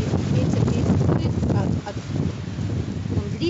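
Strong hurricane-force wind buffets the microphone in a garden where a cherry tree and roses have been broken, a loud continuous rumbling gust that eases briefly midway before surging again.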